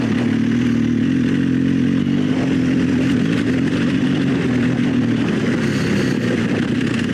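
An adventure motorcycle on Bridgestone AX41 Adventurecross tires rides over small loose rocks, its engine droning steadily up close while stones clatter and scrape under the wheels throughout.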